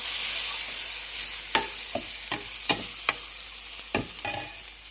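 Ginger frying in oil for chicken curry: a soft, continuous sizzle punctuated by about eight sharp spatula knocks and scrapes against the pan, spaced irregularly, close and clear without talk.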